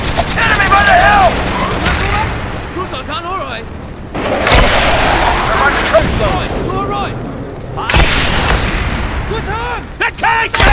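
Battlefield combat from Call of Duty Black Ops at the Battle of Khe Sanh, with loud, dense bursts of gunfire and explosions that continue throughout, mixed with shouting voices and radio chatter.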